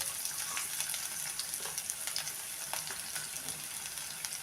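Finely chopped onion sizzles in hot oil for a grated potato bhaji, a steady crackling fry with faint spattering throughout, close and even with no talking.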